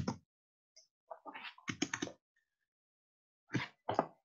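A computer keyboard clicks in short bursts while text is entered into a WordPress page editor, close and clear, with quiet gaps between the clusters of keystrokes.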